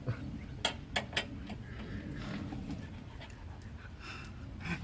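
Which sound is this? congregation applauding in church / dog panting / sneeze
dog panting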